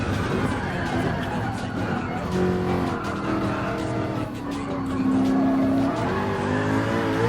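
Group C race cars in Gran Turismo Sport roar close by with steady engine drone and rising, shifting revs, tyre squeal mixed in as one car passes a Porsche and chases a Hyundai N2025, with no talk.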